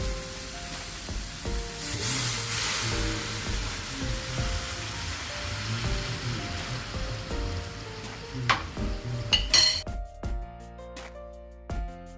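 Meatballs stir-fried for pad kaprao sizzle steadily in a hot pan, with scraping stirs and clinks of a utensil near the end.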